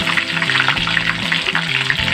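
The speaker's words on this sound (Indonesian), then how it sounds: "Nah, ini dia proses penumisan ya." Onions sauté in a pan for Malay gulai sagu, a steady hissing sizzle running throughout beneath a person talking.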